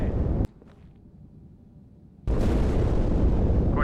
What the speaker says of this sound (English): That explosion came from inside the Athens.